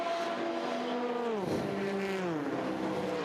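Le Mans endurance race cars, Ferraris among them, scream past with a loud, high engine note whose pitch bends downward as they pass and shift, over constant track noise.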